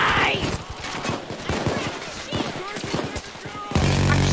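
A minigun fires in Payday 2 as a dense, rapid burst of gunfire that runs nearly continuously, with other game sounds layered in and voices talking over it.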